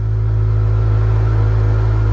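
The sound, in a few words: Kawasaki Z1000R motorcycle engine revving, original exhaust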